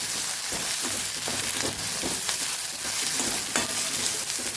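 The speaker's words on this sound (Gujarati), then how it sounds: "આદુ સરસ સતળાઈ ગયું છે" Ginger sautés in a pan with a continuous close sizzle and repeated stirring clicks and scrapes; no one speaks.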